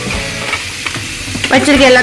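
Potato finger chips deep frying in hot oil, producing a loud, close bubbling sizzle that swells near the end, as if the fries are being stirred, with no speech.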